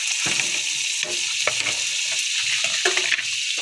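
Onion frying in butter on a flat tawa gives a steady, close crackling sizzle, with soft scraping and stirring clatters breaking through now and then.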